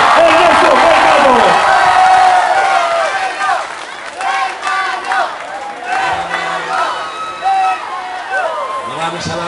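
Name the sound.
crowd applauding and cheering for the mayor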